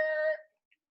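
A voice imitates car tires squealing around a corner too fast: one short, high, tonal screech under half a second, close and moderately loud, then silence.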